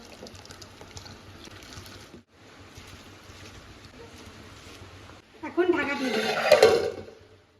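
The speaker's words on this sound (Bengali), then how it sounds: "জলটা ফুটে গেছে চালগুলো দিয়ে দেবো" Rice grains poured into a pot of boiling water, with a short rushing, splashing burst near the end over a low simmering bubble and kitchen background.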